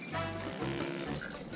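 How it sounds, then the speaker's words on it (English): Beef broth pours steadily into a pot of tripe, a short close burbling stream with a faint splashy trickle and no talking. "Now I'll add in enough beef broth or water"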